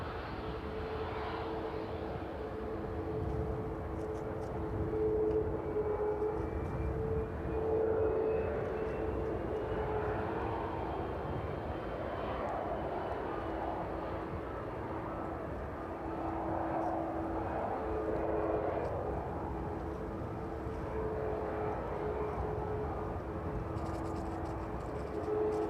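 An airliner arriving at East Midlands Airport on a Thursday evening after a flight of nearly four hours, its engines a steady, fairly distant rumble and whine that swells slightly and holds throughout, with no talk.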